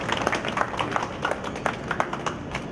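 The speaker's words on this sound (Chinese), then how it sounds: "掌声鼓励。" Audience applause at the opening of a calligraphy and painting exhibition in Kaohsiung, a dense, steady patter of many hands clapping throughout, moderately close and without talk.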